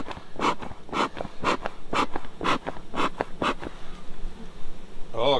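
Honeybees buzzing in a hive just after being smoked, a close, steady drone with repeated louder bursts of wing noise pulsing roughly twice a second, then settling into a continuous hum.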